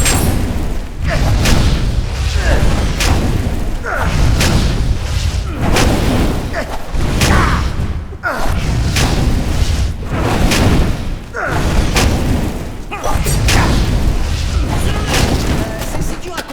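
Fireballs launched in combat in the Kung Fu Panda 2 video game, landing as a steady series of deep booms and thuds roughly every couple of seconds, with voices talking over the action.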